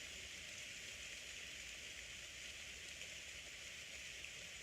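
Steady rain falls in a dense, even hiss, very faint and distant, with no other sounds.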